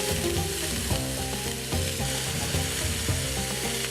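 Carrots fry alongside onions and chilies in a pan, a constant close sizzle with light stirring scrapes and crackles running throughout, no one talking.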